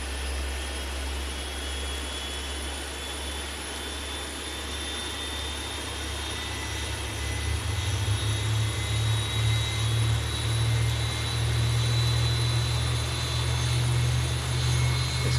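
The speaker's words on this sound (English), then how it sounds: "So with these airplanes, we gotta just allow them to kind of spool up just a little bit more. It's just a bigger engine." A Boeing 737 jet engine spools up at start on the ground, a steady loud turbine roar whose low rumble swells and builds partway through, with a faint high whine running throughout.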